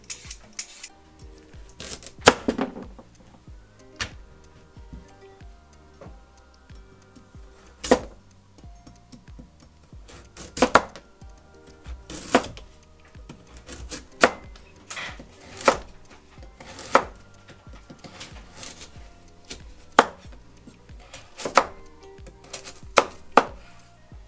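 Knife chopping a peeled carrot into tiny bits on a cutting board for gyoza filling; sharp irregular knocks speed up into quicker bursts of taps, close and clear, with no talking.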